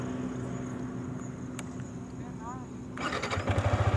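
A Yamaha R15-M motorcycle engine cranks and catches at night, settling into a close, throbbing idle after a few seconds of quiet background.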